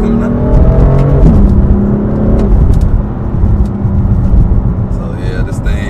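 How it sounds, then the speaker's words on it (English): A rear-drive car built to slide, driven hard, its engine revving steadily with a gear change partway through and loud continuous drivetrain noise throughout, heard from inside the cabin. "Downshift, you can hear it takes a little bit longer to downshift."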